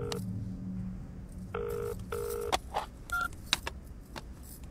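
A phone call rings out unanswered: repeated electronic ringback tones in short bursts, then a few sharp clicks and beeps, fairly faint and with no talking.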